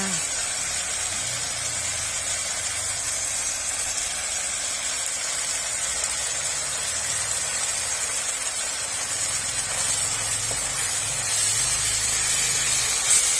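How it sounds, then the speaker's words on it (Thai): Sliced carrots stir-frying in a pan as the first step of a Thai spring roll filling, giving a loud, steady sizzle and hiss that runs throughout with faint low clatter beneath. "เราจะใส่แครอทลงไปผัดก่อน ผักชนิดอื่น ๆค่ะ"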